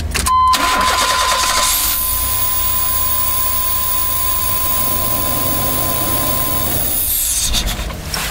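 A GMC Safari / Astro van engine cranks and catches after an ignition control module replacement, settling into a steady, loud idle that runs close up throughout with no talking.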